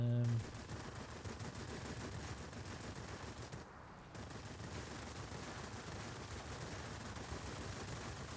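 Continuous machine-gun fire rattles in a Wargaming air combat game, a steady dense stream of shots at moderate volume that briefly dips before resuming, with engine drone underneath.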